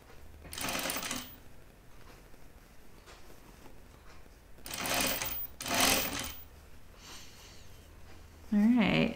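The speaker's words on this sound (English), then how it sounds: "I keep forgetting to pin this before I start sewing." A sewing machine stitches a guinea pig plush toy in short bursts, a burst near the start and two more in the middle, with quiet pauses between them, and a brief sniff near the end.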